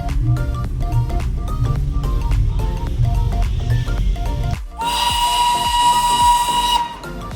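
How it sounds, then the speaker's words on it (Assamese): A loud, shrill steam whistle from the Darjeeling toy train blasts for about two seconds over rhythmic music-like tones and hissing steam. "এয়া দাৰ্জিলিঙৰ বিখ্যাত টয় ট্ৰেইন।"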